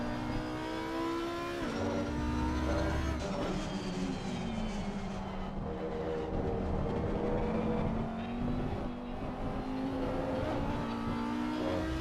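Audi race car engine in the racing game Assetto Corsa Competizione, revving loudly and steadily with rising and falling pitch through gear changes, continuous and close with no talk.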